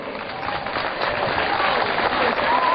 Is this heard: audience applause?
yes